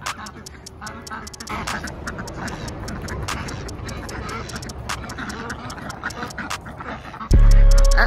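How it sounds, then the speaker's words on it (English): Ducks quacking in a backyard pen shared with chickens, a busy run of repeated quacks and squawks, with a loud burst of noise near the end. "this is where we keep all the ducks and the chickens"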